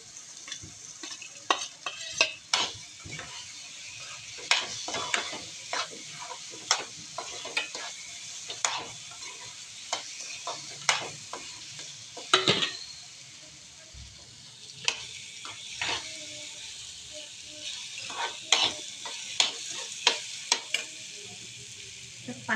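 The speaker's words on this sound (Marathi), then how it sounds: "आता याच्यामध्ये आपण टाकू पनीरचे क्यूब्स" Paneer cubes are stirred into a cooked masala in a pan. Soft sizzling runs underneath, and a spoon scrapes and clinks in irregular bursts across the stretch without any talking.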